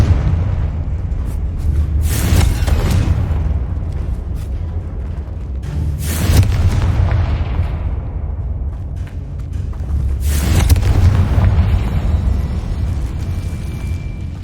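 Confringo fire spell explosions in the Hogwarts Legacy video game, three loud booming blasts spaced a few seconds apart over a continuous low rumble.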